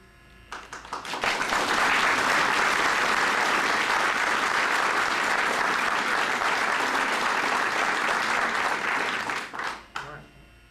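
A city candidates debate audience breaks into loud, dense applause that swells within a second, holds strong for about eight seconds, then fades quickly, with a few voices audible near the end.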